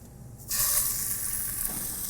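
Braciole hit a very hot pan and burst into a loud, steady sizzle that starts suddenly and holds without letup, close by and unaccompanied by talk.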